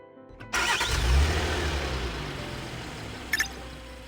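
A car engine in the Love and Deepspace video game starts with a sharp crank, then settles into a smooth, close rumble as the car drives off, with a faint chime near the end.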